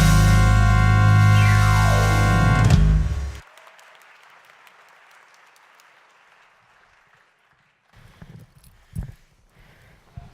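A loud song from a high school drama production of The Reluctant Dragon ends abruptly and the audience responds with applause. The clapping starts as a soft, distant patter and grows louder and more scattered near the end.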